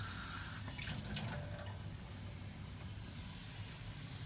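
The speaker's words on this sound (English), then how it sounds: "we take our pan and we put it over some water on our sink" A pan of baghrir batter rests over water in a kitchen sink, with water sounding a soft, steady hiss and trickle that is faint and continuous, with no voices.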